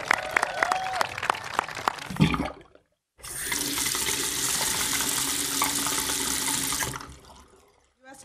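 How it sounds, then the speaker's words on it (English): At an event with Michelle Obama and a U.S. Department of Agriculture official, a voice speaks briefly before an audience breaks into loud, sustained applause that holds steady for several seconds and then fades out. "So let's give them a round of applause."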